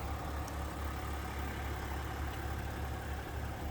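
A GMC Sierra's 3.0-liter Duramax diesel idles steadily, a low, even rumble with a soft mid-range hum, fairly quiet and unchanging throughout with no talking.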